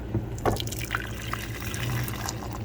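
Homemade plant milk pours and trickles steadily into a container, with small drips and splashes over a low background hum.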